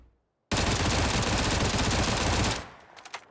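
Sustained full-auto FAMAS fire from a crouched position in PUBG, a loud, dense two-second burst of rapid shots that stops abruptly, followed by a few faint clicks and small sounds.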